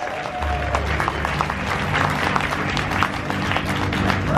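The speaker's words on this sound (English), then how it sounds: "Give Marlene a big round of applause." Steady crowd applause aboard the cruise ship Carnival Horizon during a game show event, dense clapping throughout, fairly loud and continuous, with a faint murmur of voices underneath.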